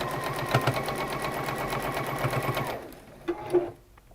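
A sewing machine stitches quilt block rows together with a fast, even mechanical whir close by, then stops abruptly, followed by a couple of soft clunks of handling.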